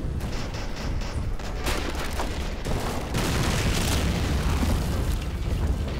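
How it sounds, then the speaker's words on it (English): Bombs exploding in the Men of War strategy game, loud sustained booms and rumbling blasts layered with scattered gunfire, growing heavier toward the end. "Bombs."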